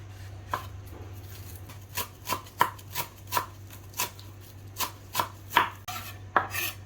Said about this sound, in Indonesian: Kita iris daun jeruk, daun brambang,